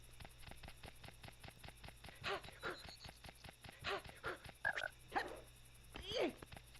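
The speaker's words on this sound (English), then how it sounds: "I'm still hearing the frogs." Frogs croak in an N64 video game as a rapid, regular clicking chorus runs throughout, with louder croaks and chirps rising over it at moderate volume against a low steady hum.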